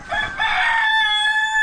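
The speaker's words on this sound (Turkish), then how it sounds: "Şurada bir tavuk var." A rooster crows once, loud and close, as a long drawn-out call in the open air of a rural farmyard with free-range chickens.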